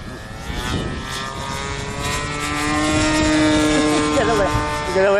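A Spitfire propeller plane roars overhead while flying aerobatics, the engine note rising and shifting in pitch as it passes, loud and fairly near, with excited voices underneath.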